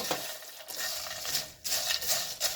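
Butter-fried rice Chex being stirred in a pan over medium heat, a close scraping, rustling shuffle that comes in bursts with brief pauses between strokes, over a faint sizzle and with no voices.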